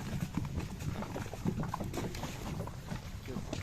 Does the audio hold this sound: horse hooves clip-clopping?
yes